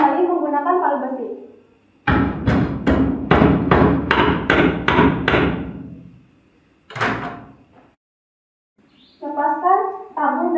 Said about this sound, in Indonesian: Ketok kembali menggunakan palu besi.